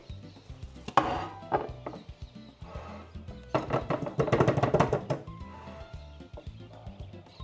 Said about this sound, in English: You see that on the edges it's like firm and sticky, so you have to use a knife to cut it.